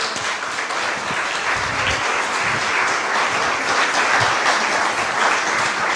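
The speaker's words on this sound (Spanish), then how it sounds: "denle un aplauso" Church congregation giving a round of applause, a sustained, even roar of many people clapping for the full stretch, loud and unbroken.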